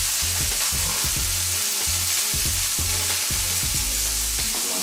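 A burger patty mixed with bacon sizzles in a pan with a loud, continuous hiss, while a rhythmic low tonal pattern pulses underneath.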